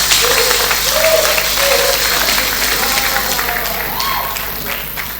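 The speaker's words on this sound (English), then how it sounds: "Please a round of applause for him once again." Applause from an audience at a talk on making quality connections, moderate clapping running the whole time and slowly thinning toward the end, with faint voices underneath.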